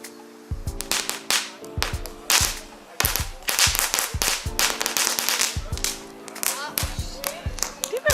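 Rapid crackling fireworks bursts in irregular volleys, sharp pops and snaps close by, with people talking and exclaiming in between.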